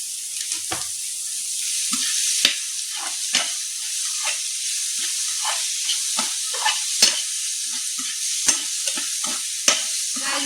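Tomatoes fry in a shallow layer of oil in a pan, a steady close hiss and sizzle broken by frequent sharp pops and spatters throughout, with no talking.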